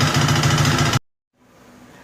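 A 2002 Honda Reflex scooter engine runs loud and steady for a second, cuts out abruptly into silence, then a fainter mechanical rumble returns.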